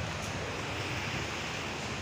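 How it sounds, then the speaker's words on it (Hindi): Heavy rain driven by strong wind, a dense, steady roaring wash of noise with no breaks, loud and close, and no voices over it. "पानी बहुत जोर वर्षा हो"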